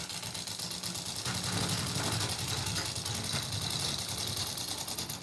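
A sewing machine runs steadily while stitching the neckline of a woman's suit, giving a continuous, fairly loud mechanical whir with a fast rapid ticking rhythm and no speech over it.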